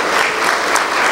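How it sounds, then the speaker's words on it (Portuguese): A church congregation applauds at a Feast of Tabernacles closing service, with dense, steady clapping from many hands that fills the room at a constant level throughout. "Eu acredito que essas palmas são para mim"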